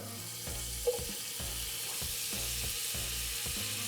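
Butter melting and sizzling in a hot pan before carrots go in, alongside a ribeye steak dinner. A continuous even hiss with a faint regular pulsing underneath is heard up close, with no speech.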